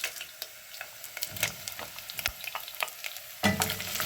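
Chopped onions hit hot oil and sizzle in a pan as they are stirred, a close, crackling fry broken by sharp scraping strokes and a louder burst near the end, with no talk.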